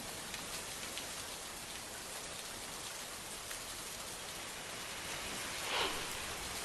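Steady, continuous heavy rain falls on a stretch of the Mumbai–Nashik highway near Bhiwandi as an even, hissing downpour with a faint swell late on. No voices are heard.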